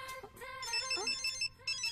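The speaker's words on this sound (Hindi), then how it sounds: "मेरा फोन बज रहा है" A mobile phone ringtone plays a bright, repeating electronic melody of short tonal notes, close and clear, with no one talking over it.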